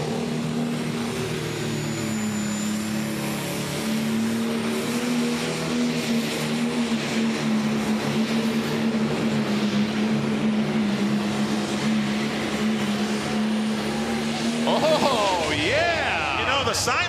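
A pro stock pulling tractor at a pulling event in Farley, Iowa roars with a loud, sustained engine drone throughout, and the pitch climbs and wavers near the end of the pull while an announcer talks over it.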